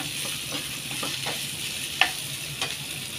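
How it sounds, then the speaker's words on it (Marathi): Chicken roll filling sautés in butter in a pan, a steady close sizzle broken by a few light stirring taps. "हे आपल्याला थोडंसं परतून घ्यायचं"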